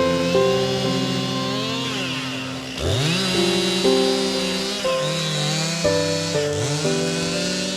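A chainsaw clears overgrown dry grassland at a former open-pit mining site in Luxembourg's Minett region, its engine whining loudly and steadily, revving up and dropping back repeatedly as it cuts, close by with no voices.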